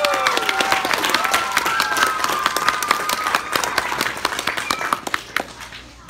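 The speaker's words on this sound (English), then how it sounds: "we give them a big old cheer" A school audience cheers and applauds spelling bee contestants with steady, dense clapping and some whoops and voices mixed in, tapering toward the end.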